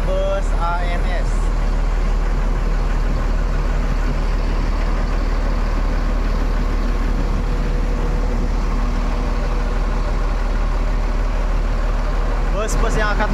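Buses parked and idling at a busy bus terminal before departure, a constant loud low engine rumble with surrounding traffic noise and brief high whines at the start and end, voices faintly mixed in.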